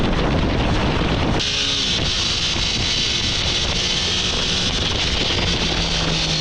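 Triumph Daytona 660 motorcycle revving above 5,000 rpm while riding, a loud continuous high-pitched exhaust roar mixed with heavy wind rush.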